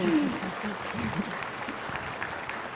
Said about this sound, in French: Xin các bạn cho một tràng pháo tay.